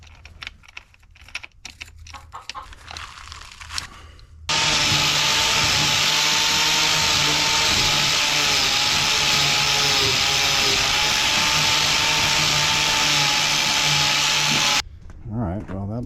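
A power tool scrubs rust off a hardened grease drain pipe. After a few seconds of quiet clatter and talk, a loud, steady grinding whine runs for about ten seconds, then cuts off abruptly.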